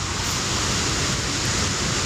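Steady, loud broadband rush of the Verdal waterfall in Norway, a continuous roar of falling water filling the whole clip without pause or voices.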